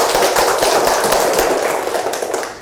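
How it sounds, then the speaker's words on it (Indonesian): A classroom of students claps together in a quick, dense burst of applause that stays loud and close, then thins slightly toward the end. "Beri aplaus."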